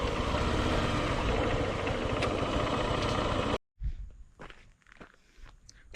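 Footsteps of people walking on a forest path near gold mining caves after a bike is parked, first under a steady engine hum that cuts off abruptly, then irregular close steps in quiet surroundings.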